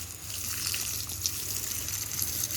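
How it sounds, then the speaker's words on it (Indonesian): Water running from a hose onto garden soil beds, a steady close splashing and trickling flow with no talk. "Sekarang ada airnya yang seperti ini mengalir dari selang. Lalu kita siram ya."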